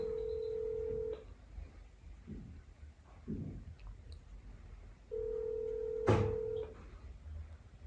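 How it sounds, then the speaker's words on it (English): A telephone in a Jamaican film scene plays steady tones at the start and again near the end, with brief key presses and a short sharp click, and muffled outdoor background between them. "I'm gonna call daddy"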